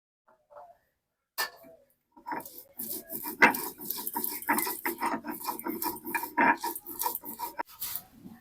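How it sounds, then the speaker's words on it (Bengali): Coconut is ground by hand on a grinding stone, producing rhythmic rasping and scraping strokes that build after a few quiet knocks and continue close and fairly loud without talk. "এই নারকেলটাও আমি বেটে নেব"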